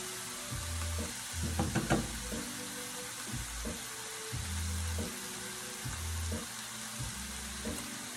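Garlic and chopped vegetables sautéing in a hot pan for keto stuffed peppers, a steady close sizzle broken by repeated stirring scrapes and knocks of a utensil against the pan.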